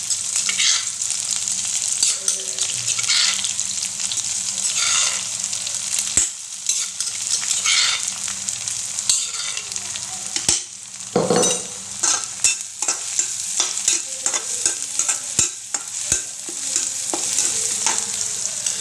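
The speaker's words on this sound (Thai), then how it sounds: "ใส่พริกกับกระเทียมลงไปนะคะ" Chili and garlic stir-frying in a hot pan for mushroom and crab-fat stir-fry, a steady loud sizzle with spatula scrapes and clanks recurring throughout, no voices.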